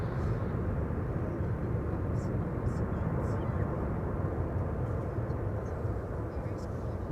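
A plane landing at Amsterdam Schiphol Airport produces a steady, loud, broadband roar that holds evenly throughout, heavy in the low end, with faint higher chirps scattered above it.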